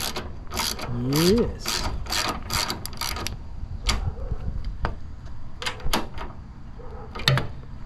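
A ratchet wrench tightens a 13 mm bolt on a tailgate strut being fitted to a Chevrolet Silverado, producing quick bursts of close, rapid clicking with short pauses and a brief spoken word.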